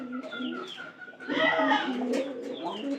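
Low, repeated cooing from pigeons nearby, soft throaty calls in short phrases with a fuller burst in the middle.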